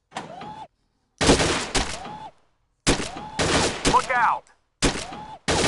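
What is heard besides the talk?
scoped rifle gunshots in a PS4 video game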